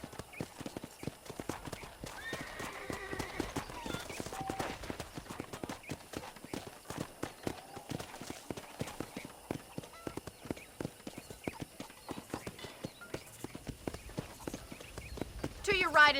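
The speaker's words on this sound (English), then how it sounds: "let's see if you can still ride a horse." Horse hooves clip-clop steadily in Red Dead Redemption, a brisk rhythmic trotting on a ranch with an occasional whinny, heard under ongoing game dialogue.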